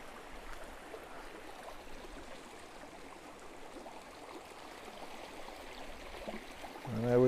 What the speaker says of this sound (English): it's warm water, so there's a little warm springs here.